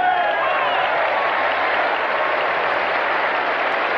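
Tennis stadium crowd at the 1981 US Open applauding, a broad, even wash of clapping and murmur that holds steady from start to finish.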